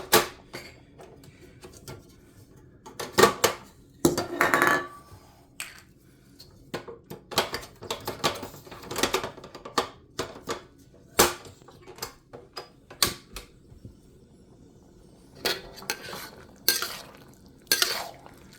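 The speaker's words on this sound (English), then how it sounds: "Just mix it, get that flavor into the beef." Beef being stirred with black bean sauce, tomatoes and onion in a pan, giving irregular scraping and clinking of a utensil against metal in short bursts, with quiet pauses between strokes and no talking.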